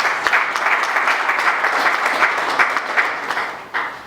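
An audience at a marketing club's first-edition event claps loudly and continuously, a dense wash of applause that holds steady before easing slightly near the end, with no speech heard.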